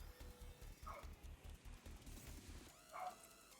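A dog barks in a few short, yelping bursts against a steady low rhythmic background, fairly faint and a little distant, with no talk.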